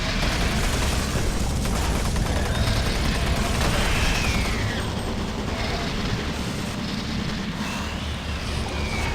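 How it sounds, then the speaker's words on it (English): Automated turret guns fire in the sci-fi shooter Doom 3 amid a dense, continuous roar of rapid gunfire and rumbling. A few whooshing sweeps cut through, and the noise stays loud and unbroken for the whole stretch. "Warning. Automated turret guns online."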